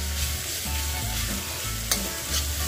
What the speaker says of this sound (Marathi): ह्या कढईमध्ये मी तडका तयार करत आहे.